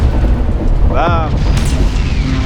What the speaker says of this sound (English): And shooting his lance batteries.